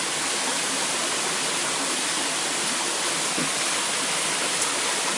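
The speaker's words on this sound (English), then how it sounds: "Waterfalls, man." Frankie's Falls roars with a steady, dense rush of falling water, loud and close, unchanging for the whole stretch with no voices.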